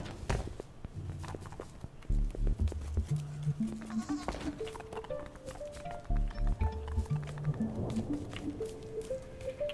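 A goat bleats in the puzzle video game Creaks amid a rising sequence of musical game tones and soft footsteps, with a few short bleats spread across the scene.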